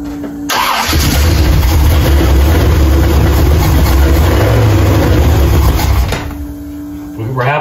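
A 1968 Impala with a 454 big-block Chevy engine and newly replaced head gaskets cranks loudly and continuously for about six seconds, then stops. Voices can be heard briefly around the cranking.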